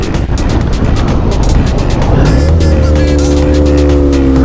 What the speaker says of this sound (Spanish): Vamos a hacer la prueba de frenado, ¿vale? Vamos a ponernos a 100.